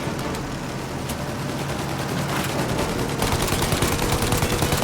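Dense automatic gunfire aimed at a plane's engines in the Mafia video game, a continuous rattling barrage over a roaring engine-like background that grows heavier and faster in the last second and a half.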